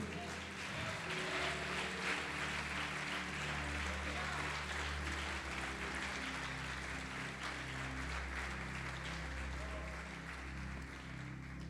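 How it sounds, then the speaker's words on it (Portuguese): A church congregation applauds the Lord during a service, producing soft, steady clapping from many people that carries on for several seconds over a low sustained musical drone. "Você pode aplaudir o Senhor?"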